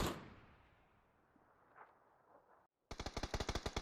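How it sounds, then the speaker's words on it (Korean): Gunfire in the video game PUBG: a sharp shot fades into quiet, then after a brief silence a rapid automatic burst of about a dozen loud, evenly spaced cracks. "총소리."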